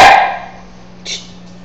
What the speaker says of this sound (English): if you hear growling and purring, that's my dog